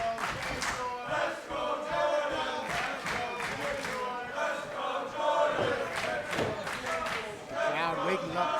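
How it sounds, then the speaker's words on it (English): A crowd at a grappling event cheers and shouts in a sustained roar with scattered claps, heard at a middle distance with talk running over it. "Crowd waking up for Jordan Blade"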